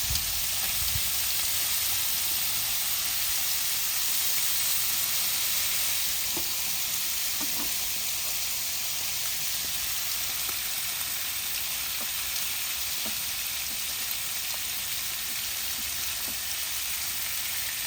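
Thick bacon strips crowd the open-lid grate of a Ninja Woodfire XL Pro grill, giving a loud, continuous, close sizzle like heavy rain, with a few faint pops and clicks scattered through it.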